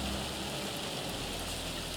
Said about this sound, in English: Look at the intensity of the rain.